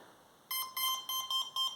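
Electronic speed controller of a Lidl RC glider converted to three motors beeping from the motor: five short, bright, clean tones in a quick, slightly uneven series after a brief silence, close and fairly quiet.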